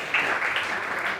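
Crowd applause at an open-mic poetry gathering in Lucknow: a sustained, even patter of many people clapping, moderately loud and without a break, with no voices over it.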